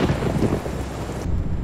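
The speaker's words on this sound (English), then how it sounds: "They have some nice thunder too." A deep, rolling rumble of video game thunder from Euro Truck Simulator 2 with rain-like hiss, loud and sustained, then dropping away abruptly into a duller wash of noise.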